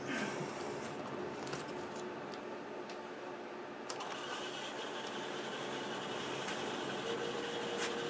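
A 3/8 bowl gouge cuts a redwood multi-branch bowl on a lathe, a steady broad rushing scrape that runs continuously and fairly loud, with a sharp tick and a faint high whine joining partway through.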